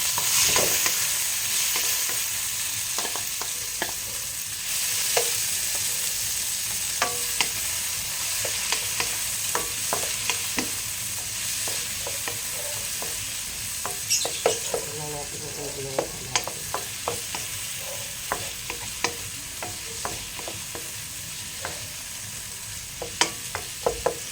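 Garlic, onion, chili and ginger sizzle together in a pan, a constant bright hiss dotted with frequent crisp pops and spatula scrapes that grow busier toward the end, without any voices.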